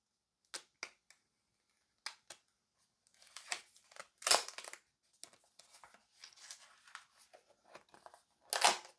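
Protective plastic wrap being peeled off a new Samsung Galaxy Z Fold5 phone gives close crinkling and tearing rustles, with a few sharp clicks at first, then longer crackling pulls.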